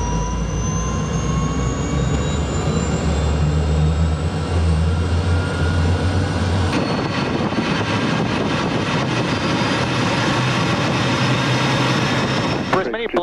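The turbine engine and rotor of an MD 600N helicopter without a tail rotor run continuously with a steady whine and throbbing drone, loud and close, under speech.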